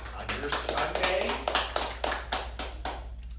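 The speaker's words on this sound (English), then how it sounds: "Give yourselves a round of applause for making it out here on your Sunday" Audience applauding at a Rossiter Stretching System presentation on a Sunday, a burst of hand claps about three seconds long that tapers off, heard fairly close.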